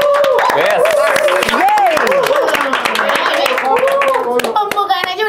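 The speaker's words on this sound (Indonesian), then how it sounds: "Pembukaan aja udah rame banget yang tepuk tangan" Lively clapping from a small group fills the space, with voices talking and calling out over it throughout.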